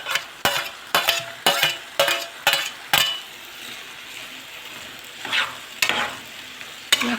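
Bell peppers and potatoes stir-frying for a potato shakshuka, a run of quick, loud spoon scrapes and clacks against the pan over a sizzling bed, then a pause and a few slower stirs.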